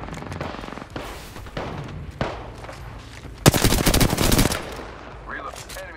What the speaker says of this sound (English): Shot fired at me.